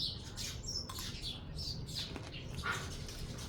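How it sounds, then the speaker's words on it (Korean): Sparrows chirp outdoors in Laos among blooming flowers, giving scattered high, short squawks and tweets at moderate distance over a low background rumble. "참새 굉장히 많은데"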